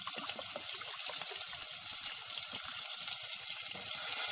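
Water pours into a pot of meat frying in margarine or butter for a sweet Algerian lamb tagine, a steady soft hiss and trickle with faint sizzling throughout, quiet and close.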